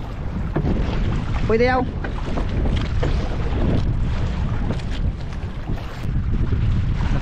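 Strong wind at sea, recorded aboard a boat, roars as a steady low rumble against the microphone, with the boat's noise throughout and a brief spoken phrase.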